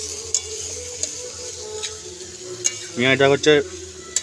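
Onions are stirred in a frying pan, a soft sizzle running underneath with a few scraping taps, while a voice talks briefly near the end.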